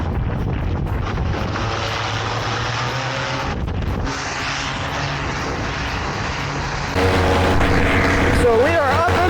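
A model airplane with a new engine flies overhead, its loud buzzing engine drone shifting in pitch as it passes, with wind noise on the microphone and a burst of louder engine sound near the end.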